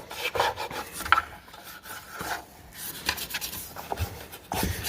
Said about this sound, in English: Just give her a good scrubbing.